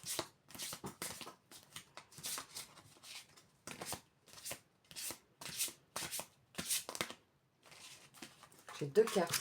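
Oracle cards for a reading are shuffled in a steady run of crisp riffling bursts, close and fairly quiet, broken by short pauses, with a voice speaking between shuffles.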